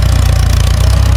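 A loud, close farm tractor engine, used for leveling a rice paddy, runs with a steady low chugging throb, rough and continuous through the brief moment.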